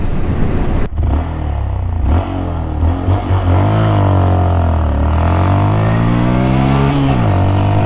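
A 2019 Honda Monkey motorcycle engine revs loud and close, climbing in pitch through several gear changes with brief dips between shifts, steady and continuous.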